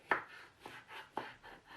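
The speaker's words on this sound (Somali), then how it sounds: "isla si yaris u jarjar" Knife chopping food on a board while making a Ramadan sweet: four fairly even, quiet strokes about half a second apart, each a soft thud with a brief scrape, close by with no voices.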